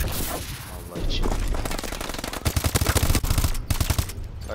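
Rapid automatic gunfire in the Call of Duty Advanced Warfare multiplayer video game: sustained close bursts of sharp shots in quick rhythm, pausing briefly and resuming, loud and punchy throughout, with a little background noise between bursts.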